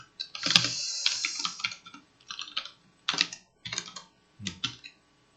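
A computer keyboard typed in short bursts of close, crisp clicking during a Python numpy coding session, with brief pauses between runs of keystrokes.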